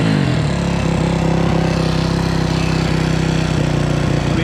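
A dirt bike engine running steadily at the sand dunes, a loud, close, buzzing drone with an even rhythm and no talk.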